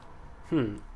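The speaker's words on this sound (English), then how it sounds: "And my cat is meowing." A single short meow, clear and fairly close, with a rising then falling pitch over a quiet background hum.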